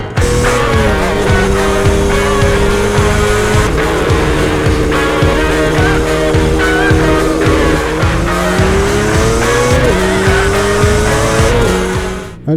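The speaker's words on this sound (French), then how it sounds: "un petit tour avec la machine Yamaha 350 RDLC des années 80" Close, loud, continuous drone of a 1980s Yamaha RD 350 LC two-stroke motorcycle engine under way, its buzzing pitch rising and falling through several gear changes with no talking.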